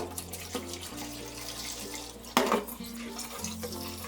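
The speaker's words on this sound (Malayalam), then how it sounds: "ഇനി ഇത് തണുത്ത വെള്ളം ഒഴിച്ച് നല്ലതുപോലെ കഴുകിയെടുക്കാം." Cold tap water runs steadily over strained paneer being washed, probably in a kitchen sink, with a sharper splash about halfway through and a low background hum throughout.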